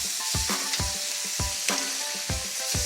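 Bacon sizzling in a hot pan, a steady bright crackle of frying fat with a quick run of soft tapping knocks layered over it, close and clear, with no voices.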